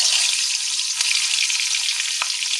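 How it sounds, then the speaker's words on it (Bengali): Pieces of fish coated with turmeric and chili powder fry in hot oil, a dense steady sizzle close by with a couple of brief sharp pops. "এখন এই মাছগুলোর মধ্যে আমি একটু হলুদ আর লঙ্কার গুঁড়ো মিশিয়ে নিয়ে একটু হালকা করে ভেজে নেব।"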